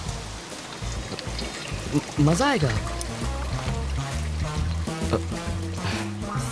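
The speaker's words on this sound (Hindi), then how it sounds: "यहाँ इतनी बरसात हो रही है" Heavy rain pours steadily while people talk close by, near a roadside tea spot while they wait for a bus.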